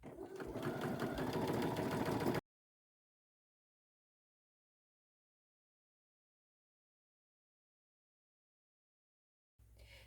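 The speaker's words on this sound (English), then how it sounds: "I'm going to sew on the outside of the 3 edges of my pillowcase" Sewing machine stitching along the outer edges of a pillowcase, a steady fast whirring hum for about two seconds that then stops, with a brief quieter sound at the very end.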